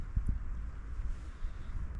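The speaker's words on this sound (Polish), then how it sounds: "ten lodowaty wiatr z północy wyciąga wszystko" Icy north wind gusting into a microphone outdoors on a cold, sunny ride, a low rumbling buffet with a couple of sharp thumps early on, fluctuating steadily without voices.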